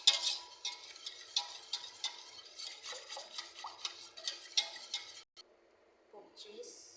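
A spoon stirs macaroni in a creamy béchamel sauce inside a pan, giving repeated scraping clinks and soft wet squelches in a steady rhythm, close up, before a short pause and a final scrape.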